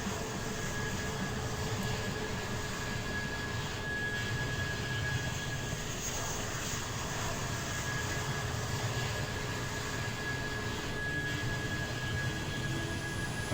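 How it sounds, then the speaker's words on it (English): A jet aircraft approaching to land in the Train Simulator 2017 Gatwick Express game, a steady, fairly loud broadband engine roar with a thin high whine, continuous and unbroken with no talking. "Can hear some jet aircraft."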